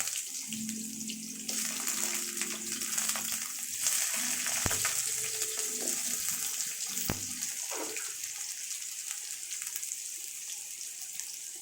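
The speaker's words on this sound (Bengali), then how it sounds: "তার সাথে আমি কেটে রাখা আলু দিয়ে দিচ্ছি।" Cut potatoes drop into hot oil seasoned with panch phoron and bay leaf, bursting into a loud hissing sizzle that rushes on steadily, with a few sharp clicks of a utensil against the pan, close up, no talk.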